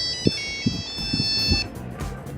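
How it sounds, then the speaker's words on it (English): A classic Nokia 3310 still rings after a drop test, a melodic tonal ringtone sounding close for about a second and a half alongside a few soft knocks, then fading into quieter handling noise. "I tried calling the phone and it still works"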